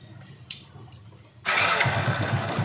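A Hero Passion Pro motorcycle running on its battery fires up after a brief click, then settles into a loud, steady, close-up idle with a rapid low thumping beat.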